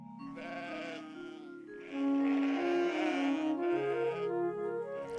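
A sheep bleats in long, wavering cries, the second call louder and more strained than the first, close and clear with no other sounds.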